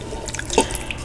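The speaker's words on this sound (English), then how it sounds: "Then you just pour the water in" Water poured onto granulated gelatin for homemade marshmallows gives a brief, light splashing drip, close and moderately loud, with no voices.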